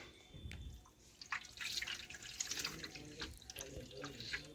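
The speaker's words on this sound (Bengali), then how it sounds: "এ দেখুন আবারও জলটা ফেলে দিচ্ছি।" Rice washing water is poured off, running and splashing with scattered drips at close range, steady and moderately quiet, with no talk.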